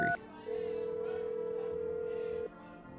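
Telephone keypad tones in a video game: a short beep pair, then one long steady tone lasting about two seconds before cutting off, heard alone without talk.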